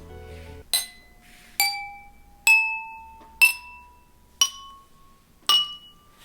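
Homemade glass xylophone of drinking glasses filled with water, struck one at a time: six clear ringing tones spaced about a second apart, each with a bright strike and short decaying ring, quiet rustle between.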